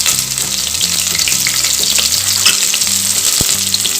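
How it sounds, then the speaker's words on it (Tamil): Curry leaves, onion and whole green chilies sizzle loudly in hot oil for a country chicken gravy, a dense continuous close frying hiss with light stirring clatter throughout. "நாம தேவையான கருவேப்பிலையும் சேர்த்துக்கலாம்."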